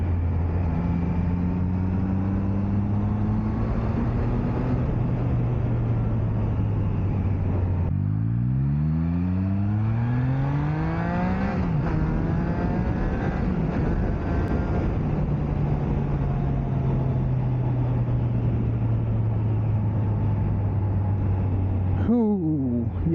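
A motorcycle engine with a loud exhaust idles with a deep rumble, then revs up sharply several times, its pitch sweeping upward and settling back down. The sound is close and sustained throughout.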